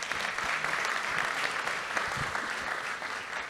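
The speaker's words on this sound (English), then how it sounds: "round of applause this morning" Audience applause fills a breakfast event, dense steady clapping from a sizable crowd that holds at full strength for several seconds before easing slightly at the end.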